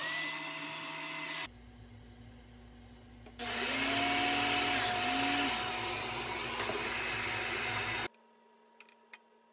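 Biscuit cutter slotting the inside of a table apron: a short whine, a pause, then a loud high-pitched spin-up and cutting burst lasting several seconds before cutting off, followed by faint clicks.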